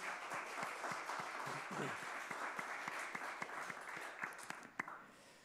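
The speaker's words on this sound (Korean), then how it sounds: "우리 하나님께 영광의 박수 올려드립시다" A church congregation at a Sunday Advent service breaks into sustained applause, a steady, dense patter of many hands clapping that fills the room, then tapers off near the end.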